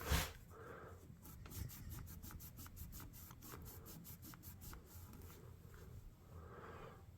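A cloth scrubs grime off an old World War II era US Navy pilot's folding survival knife in quick, regular rubbing strokes, about a dozen close, even swipes in a steady rhythm after one louder opening scrape.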